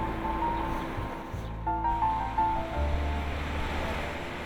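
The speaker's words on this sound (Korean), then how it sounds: "발 아래로 넘실대는 파도 소리가 별장까지 이어집니다" Ocean waves surge against the shore below a seaside villa in Goseong, Gangwon, a continuous soft wash of surf with gentle swells, heard from a little distance and fairly quiet, with a faint tonal hum running beneath.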